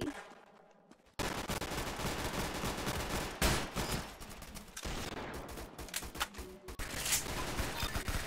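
Rapid automatic gunfire in the online shooter game Arsenal, dense sustained bursts with brief pauses, loud and close, starting after a quiet second.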